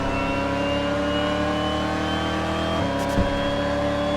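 Race car engine in the TOCA Race Driver 2 video game, a steady droning whine holding pitch, then briefly dipping and recovering as if shifting or lifting off, with another car's engine close alongside.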